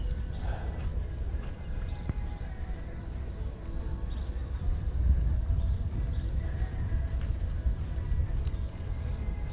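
A horse canters in collected strides around a dressage arena at a championship, soft rhythmic hoofbeats on the footing with occasional snorts, set against a faint open-air background.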